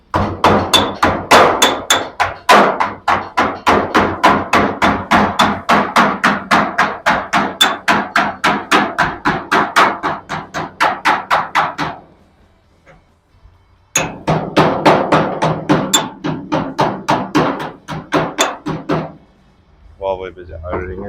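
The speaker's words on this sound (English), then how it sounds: "We've got the dolly and the hammer providing support for the lip underneath." Hammer striking against a dolly held under the lip of a classic car's steel roof skin, rapid steady ringing metallic blows in two long runs with a short pause between, close and loud.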